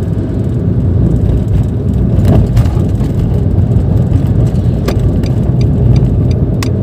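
A 2014 Nissan March 1.2 L with manual gearbox drives on an out-of-town road, its engine a steady mid-pitched drone under dense road and cabin rumble, with a few faint light rattles and clicks throughout.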